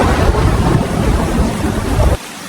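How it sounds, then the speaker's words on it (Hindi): Heavy rain bursts into an animated Hindi story about goats grazing in a field: a loud, dense, steady hiss of downpour with no talk, cutting off abruptly just before the end. "बहुत जोरों की बारिश शुरू हो गई है"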